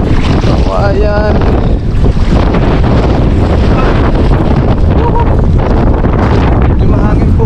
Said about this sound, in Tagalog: Medyo mahangin po ngayon.